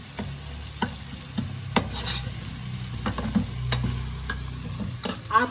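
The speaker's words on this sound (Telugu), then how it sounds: "వెల్లుల్లి ముద్ద. ఇది కూడా నూనెలో బాగా వేగాలి." Garlic paste frying in hot oil for a chicken curry, with a steady low sizzle and repeated sharp scrapes and taps of a spoon stirring the pan close by.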